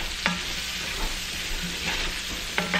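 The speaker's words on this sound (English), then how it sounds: "I'm gonna go ahead and stir fry these around" Black bean burger mix with cumin stir-fries in a pan, a close sizzle broken by several spatula scrapes and stirs at uneven intervals.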